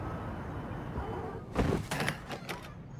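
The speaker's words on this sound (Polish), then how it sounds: "Wyważ te drzwi, Mendoza." A door being forced open in Battlefield Hardline, a couple of heavy thuds and a wooden crash and rattle midway through, following low indistinct background ambience.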